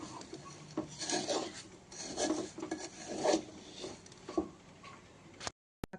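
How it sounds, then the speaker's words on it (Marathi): Sugar with cream is stirred in a pan over a low flame, heard as repeated close scraping strokes of a spoon against the pan bottom in an uneven rhythm, ending with a sharp click, with no one talking. "कमी गॅसवर आपल्याला मंद आचेवर हलवून घ्यायचं आहे।"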